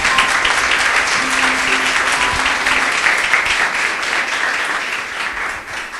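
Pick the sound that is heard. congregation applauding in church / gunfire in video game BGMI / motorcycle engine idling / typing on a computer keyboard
congregation applauding in church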